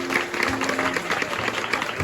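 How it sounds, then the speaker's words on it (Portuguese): A church congregation applauds, a dense, steady clatter of many hands clapping together, with a faint voice underneath. "Uma salva de palmas."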